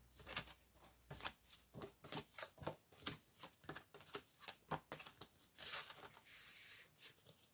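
Tarot cards being shuffled and riffled in a quick, uneven run of soft slaps and flutters, close and fairly faint, with no voice over it.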